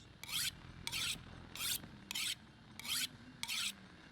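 A hatchet being sharpened in The Long Dark, six steady rasping file strokes at an even rhythm, close and fairly quiet, with no voices.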